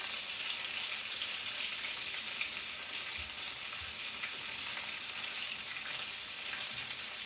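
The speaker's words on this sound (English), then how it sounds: "Once we finish frying" Chicken fillet fries in hot oil, a steady crackling sizzle with fine popping spatter throughout, close and moderately loud, no voices.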